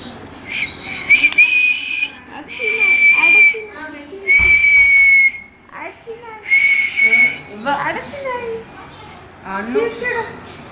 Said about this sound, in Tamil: விசில் அடிக்கிறான்